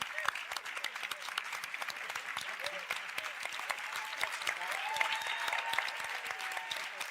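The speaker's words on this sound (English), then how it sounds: "could we please have a round of applause for our families?" A crowd gives a round of applause for families at a community talk, a steady patter of many hands clapping at moderate distance, with a faint voice or tone rising briefly through it.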